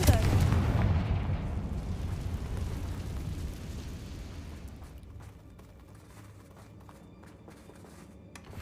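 A Confringo fire spell explodes in Hogwarts Legacy with a loud, booming blast that rolls into a long fading rumble, with faint footsteps and game noise continuing after.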